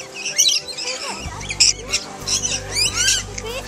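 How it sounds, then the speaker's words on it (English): A bird at Nashville Zoo gives repeated harsh squawks and calls at close range, with people talking around it. "Look, Caitlin, look at that bird."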